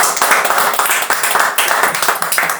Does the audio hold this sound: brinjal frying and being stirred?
no